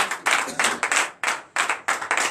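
Worshippers at a Sunday church service in Comè, Benin clap together in quick, loud bursts, several grouped claps in a brisk rhythm with brief gaps between them.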